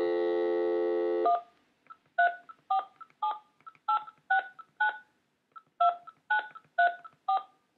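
A steady dial tone cuts off, then a quick run of touch-tone keypad beeps, short evenly spaced pairs with a brief pause midway, clear and close.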